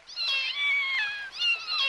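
Kittens in a cartoon meowing, several clear, high, drawn-out mews in quick succession, fairly quiet and without talk.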